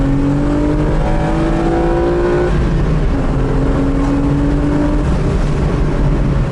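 A Renault Clio V6, rear-mounted V6 engine, revs hard and climbs in pitch through the gears, loud and close, with a brief shift midway and no talking.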